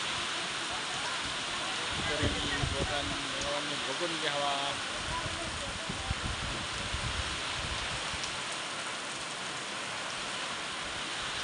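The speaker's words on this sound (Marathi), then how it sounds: "पाऊस आला पाऊस भरपूर पाऊस आलेला आहे." Steady heavy rain of the first downpour of the season in 2023, a dense, even wash of drops falling throughout, with someone talking over it for much of the time.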